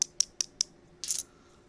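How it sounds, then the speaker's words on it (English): Hard seashells clink together as they are handled, four quick evenly spaced bright taps followed by a short scraping rattle, close and quiet. "as shells sound like this"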